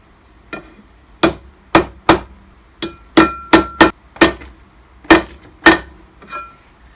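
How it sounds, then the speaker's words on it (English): A hammer taps metal parts clamped in a drill press setup to mark hole positions: about a dozen sharp, ringing strikes at an uneven pace, close and clear against quiet. "hold it as square as you can and tap this end with a hammer"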